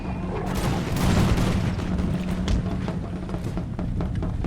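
Musket volleys from Imperial Russian troops on a battlefield in the Imperial Splendour mod, dense crackling gunfire with booming reports and scattered shots, loud and continuous throughout.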